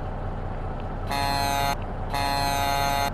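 A truck horn in Euro Truck Simulator 2 blares twice, two loud sustained buzzy blasts, the second longer, over a steady low engine drone.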